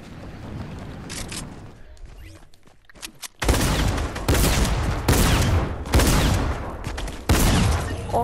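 Rapid video game shotgun fire, heavy blasts repeating in close succession after a quieter stretch with scattered shots, loud and near, steady battle noise between bursts.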